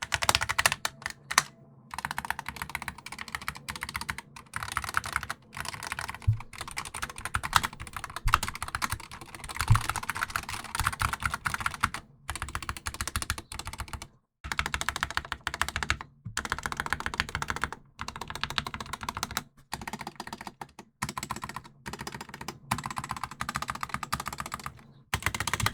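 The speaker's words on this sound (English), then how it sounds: "that is the sound test for the Apex Pro TKL" Rapid bursts of keystrokes on a SteelSeries Apex Pro TKL keyboard clatter close and crisp, with brief silent gaps between runs of typing, heard alone without any talk.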